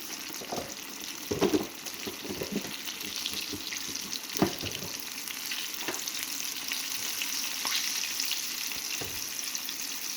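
Bullfrog meat frying in a pan of hot grease, with a steady loud sizzle throughout and occasional sharper pops and stirring clatters up close.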